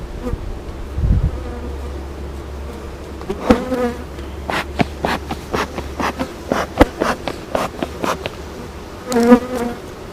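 Honey bees buzz around an opened beehive on a farm, a constant close hum with individual bees zipping past the microphone in repeated loud passes, accompanied by occasional light handling clatter and no talking.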